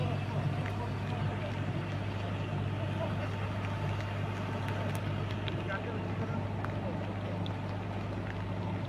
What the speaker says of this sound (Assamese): এই দাদাকেইজনে নাওখন চলাই গৈছে।